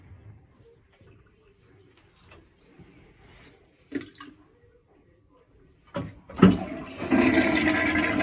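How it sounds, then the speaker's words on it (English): A household toilet flushes: after quiet rustling and soft thumps, the flush starts with a splash and then a loud, steady rush of swirling water that continues to the end. "So if Freddy the fish gets picked out of that sink and gets flushed down the toilet"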